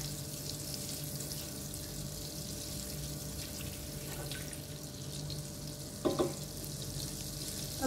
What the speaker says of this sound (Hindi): बीच में डालेंगे 2 टेबल स्पून ऑफ हमारा जो बटर है। ठीक है, और इसको मेल्ट होने देंगे।